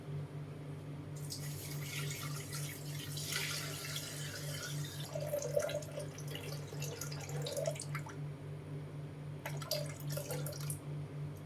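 Water is poured into a Thermomix in a soft, steady trickle, faint and close, with a couple of separate pours.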